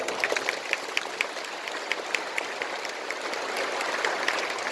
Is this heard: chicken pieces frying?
no